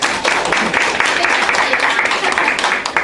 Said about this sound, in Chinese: 来，掌声鼓励，掌声鼓励